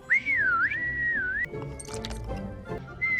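A person whistles a wavering, sliding tune for about a second and a half, then stops amid scuffling and rustling before a brief whistle returns at the end.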